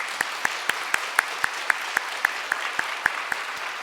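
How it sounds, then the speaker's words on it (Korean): Congregation applause welcoming a retired pastor and his wife at a Korean church's March 1st commemoration service: a brisk, evenly spaced run of crisp claps, close and distinct, lasting a few seconds. "잠깐 일어나시면 우리 박수로 환영하겠습니다"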